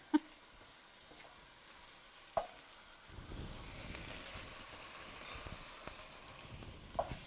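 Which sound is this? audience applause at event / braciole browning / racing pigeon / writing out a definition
braciole browning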